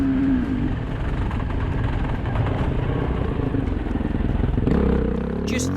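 A BMW dirt bike races hard across an open field, its engine a loud, continuous revving roar with rattling clatter, held on the gas throughout and close to the listener.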